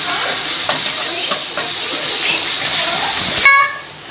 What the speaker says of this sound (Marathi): आलं लसणाचा कच्चेपणा जाईपर्यंत आपल्याला छान परतवून घ्यायचा आहे